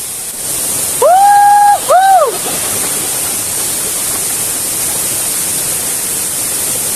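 Mini Ella, a hidden waterfall in Sri Lanka, gives a steady broadband roar of falling water throughout, with a short, clear, tonal call rising over it near the start.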